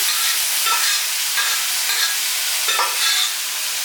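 Cooked sweet potato and onion are stirred into a spiced masala in a pan, a dense continuous sizzle swelling with three or four slow scraping spatula strokes, close and loud, with no one talking.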